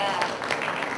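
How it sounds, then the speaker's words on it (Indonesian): Audience at an Indonesian financial planning expo breaking into a brief burst of applause, a short wash of clapping lasting about a second. "Kita beri tepuk tangan dulu buat Anda semua ya."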